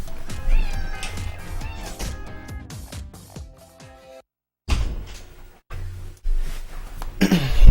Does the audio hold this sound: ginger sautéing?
no